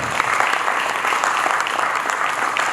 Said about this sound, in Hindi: जोरदार तालियों से उनका अभिनंदन करें